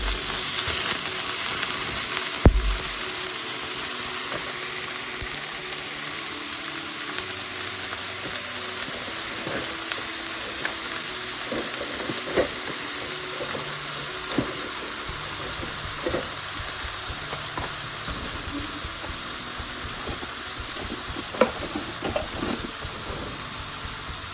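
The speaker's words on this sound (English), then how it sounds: "We're just going to sear the outside of this just a little bit, get the flavor going." Chicken searing in hot oil inside a crock pot, a loud, steady sizzle and crackle with occasional sharper pops and a thud near the start, heard up close without talk.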